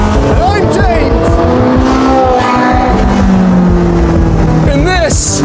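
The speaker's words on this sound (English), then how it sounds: "is the Porsche 918 Spyder" A Porsche 918 Spyder hybrid supercar roars loudly and steadily, its engine note rising and falling through sweeping pitch changes as it revs and shifts, close and dominant throughout.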